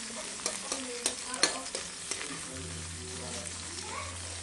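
String beans and bitter gourd being stir-fried in a pan, a soft sizzle under scattered scraping clicks of stirring, with faint voices in the background.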